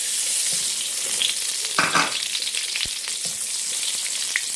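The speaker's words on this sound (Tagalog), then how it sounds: "So, una nating ilagay ang ating butter." Butter melting in a hot pan for a seafood boil sauce, giving a steady close sizzle with light stirring scrapes and a few small pops, no talking.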